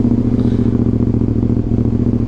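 Suzuki SV650 motorcycle engine idling just after a cold start, a loud close steady thumping burble with an even rhythm throughout and no talk.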